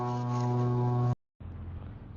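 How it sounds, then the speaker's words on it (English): Foghorn-like horn blast at a Canadian truck convoy protest in Ottawa, a loud, sustained, deep droning honk about a second long that cuts off abruptly, followed by a noisy rumble. "Sounds like a foghorn."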